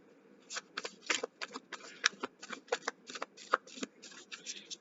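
Tarot cards being shuffled for a reading, a quick run of crisp riffling bursts in an uneven rhythm, close and fairly quiet.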